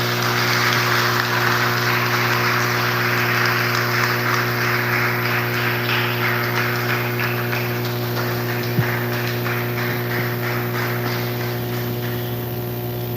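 Church congregation applauding in a steady, broad wash of clapping over a constant low electrical hum, continuing for many seconds and slowly tapering.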